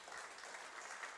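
Congregation in a church applauding, a dense steady wash of many hands clapping for just over a second, moderately distant and fairly quiet.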